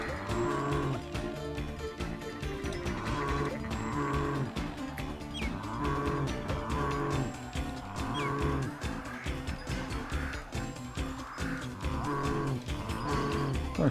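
Repeated cattle moos from the 1996 Sega Saturn game The Horde, several calls spaced a second or two apart over a busy, continuous game soundtrack.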